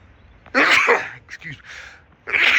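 A loud, close sneeze followed by a couple of softer breathy bursts and another sharp sneeze-like burst.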